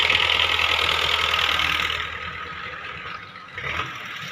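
A Massey Ferguson 85 tractor engine runs close by, its loud, steady mechanical drone dipping after a couple of seconds and then surging briefly again near the end.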